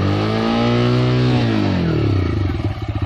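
A TVS Raider motorcycle engine idles loudly up close, then revs up and drops back, ending in a rough pulsing throb as the revs fall.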